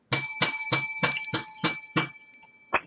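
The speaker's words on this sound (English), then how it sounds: "7 lucky bells" A bright bell rings seven times in a quick even series, each strike clear and metallic with a lingering ring, followed by a softer final ding.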